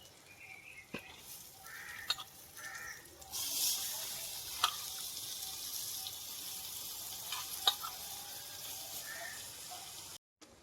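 Steady sizzling and frying of spiced goat intestines in a pan with occasional clinks of a utensil stirring, loud and close throughout, with no talking.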